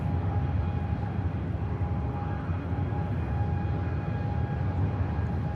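Airliner taking off at Manchester Airport, a steady loud jet roar with a sustained whine, heard at some distance with no pauses.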